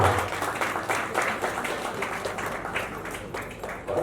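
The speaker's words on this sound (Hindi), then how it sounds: "जोरदार तालियां" A crowd gives loud applause at the launch event for Kaccha Lemmon Productions, a thick wash of many hands clapping that swells at the start and holds steady for several seconds.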